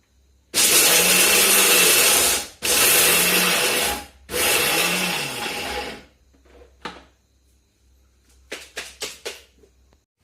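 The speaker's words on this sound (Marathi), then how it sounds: "हे सर्व एकत्र करायचंय आणि ते मिक्सरला वाटून घ्यायचंय" A kitchen mixer grinder whirs loudly in three bursts, grinding garlic cloves and peanuts for a spicy cluster bean dish, each run stopping abruptly, followed by a few faint taps and clinks.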